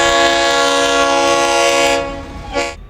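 A Leslie RS3L horn on Ferromex locomotive 3148 blasts one long, loud, chord-like wail close by, holding steady for about two seconds before cutting off with a brief echo.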